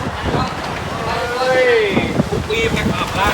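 Strong wind gusts buffet an outdoor microphone with a steady, loud rumble, while a voice talks over it throughout.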